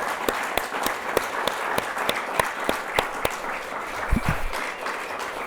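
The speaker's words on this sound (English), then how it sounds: "So let's give these people a big round of applause." An audience at a hospital award ceremony for critical care nurses gives a moderate round of applause, with scattered sharp claps standing out over a softer wash of clapping.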